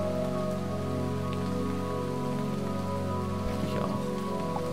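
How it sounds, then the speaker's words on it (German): Steady rain falls in the video game Starbound, a continuous even patter under a droning musical background with no talking. "Nein, es regnet wieder."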